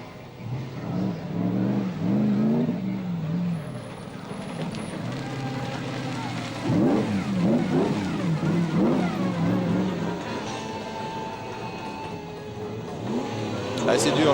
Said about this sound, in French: ce gros Opel Antara dans les virages serrés